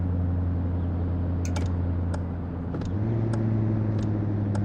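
A Volkswagen engine in Truck & Logistics Simulator hums steadily at a low pitch, then shifts up in tone as it revs, with faint clicks over the constant rumble.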